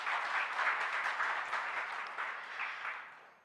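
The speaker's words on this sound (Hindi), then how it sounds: "केसी त्यागी जी का तालियों के साथ स्वागत करते हैं।" Applause from a lecture audience welcoming a guest speaker at a Hindi-language lecture series, many hands clapping steadily at moderate loudness before tapering off toward the end.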